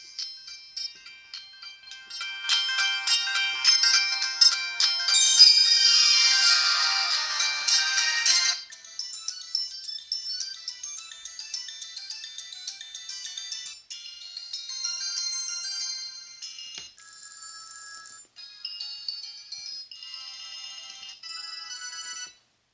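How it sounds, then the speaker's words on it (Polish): Polyphonic ringtones from a 2005 Sony Ericsson Z300i mobile phone: a sequence of bright, tinny synthesized melodies, each a short tune played loudly through a small speaker, with gaps between them and no speech. "My sobie od razu przejdziemy do naszych dźwięków w tym telefonie i sprawdzimy jego głośność"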